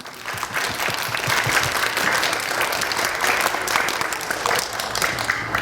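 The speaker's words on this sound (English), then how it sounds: "Let's give Dima a round of applause" An audience at a kindergarten graduation claps for a child in a dense, steady round of applause that keeps going at even loudness from start to finish.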